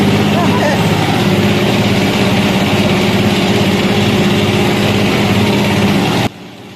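A single-phase old ship motor drives a rice mill huller, drawing about 13 amps at 237 volts, producing a loud, steady mechanical drone with a low hum that runs unbroken and then drops off abruptly near the end.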